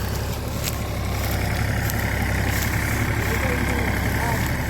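A tractor engine idles in a steady, low, continuous rumble nearby, with a faint voice under the noise.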